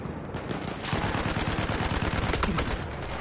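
Mortar fire in a competitive tank and infantry video game match on the Sinai map, a rapid run of loud repeated booming shots in steady succession, with no talk.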